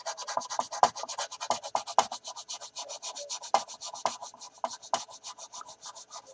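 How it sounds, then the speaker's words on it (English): Rhythmic back-and-forth sanding of an Airfix 1/72 Short Sunderland plastic model kit, a steady close-up series of quick rasping strokes with no voices. "A lot of sanding here and there."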